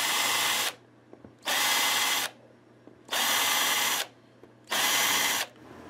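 A power drill bores into a Telecaster guitar's wood in four bursts of about a second each, loud and close, with short quiet gaps and a low hum between them.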